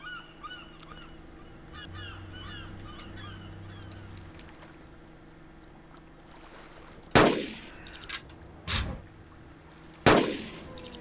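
Three C1 rifle shots ring out at an Ankylosaur in Carnivores Genesis, loud sharp cracks with echoing tails spaced a second or so apart, after honking goose-like calls and a low ambient hum.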